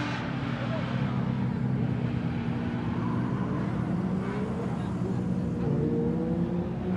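Drift cars including Nissan Z33s and S-chassis run at Gunsai touge in Japan; a steady engine drone and tire noise carry on throughout, fairly distant, with voices mixed into the roar.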